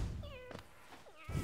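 A character in the video game Hollow Knight meows once in a short, wavering call, loud against a faint game backdrop, followed by a soft thud.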